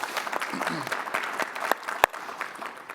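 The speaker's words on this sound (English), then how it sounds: "Give it a round of applause for our Michigan folks there." Audience at a state and national policy summit applauding Michigan senators, scattered, fairly quiet clapping with a few louder individual claps, a brief stretch of talk near the start.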